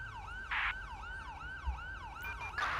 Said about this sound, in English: Hold on, my siren doesn't shut off on its own.